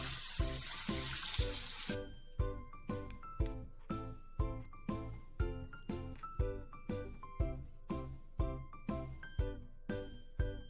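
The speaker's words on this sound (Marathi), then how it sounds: "अर्धा कप पाणी." Half a cup of water is poured into a cooking pan for Malvani-style cashew masala gravy: a short, steady pour lasting about two seconds, then a run of regular, light metallic clinks. No one speaks.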